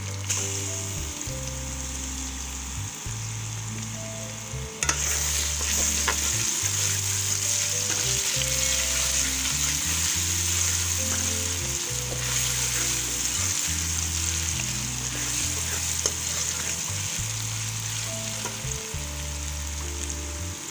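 Loud, sustained sizzle of garlic-ginger paste frying in oil, growing stronger after a few seconds, with stirring noises and background music underneath.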